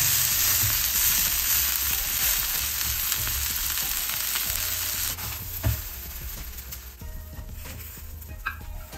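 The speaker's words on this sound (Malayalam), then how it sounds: "ഇതിന് മുകളിലോട്ട് കുറച്ച് നെയ്യും കൂടെ ഒഴിച്ചു കൊടുക്കുക." An uthappam fries loudly in a pan as ghee is poured over it, a dense, steady sizzle that eases slightly partway through, with a brief clatter and light stirring sounds near the end.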